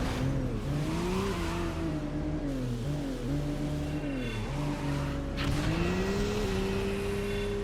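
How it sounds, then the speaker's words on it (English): A race car in Midnight Club II on PS2, racing a Tokyo circuit, holds a loud, steady high-revving engine whine with the pitch rising and dipping as it shifts and surges under a nitrous boost, with faint tire noise. "I use up my last shot of nitrous for that lap"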